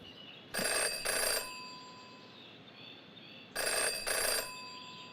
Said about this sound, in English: Jenny had learned never to ignore a ringing phone.